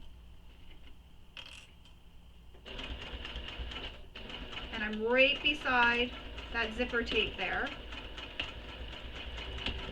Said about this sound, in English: And I'm just going to back stitch over top of that D-ring.